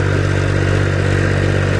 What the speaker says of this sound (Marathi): मित्रांनो निघालेला आहे ट्रॅक्टर.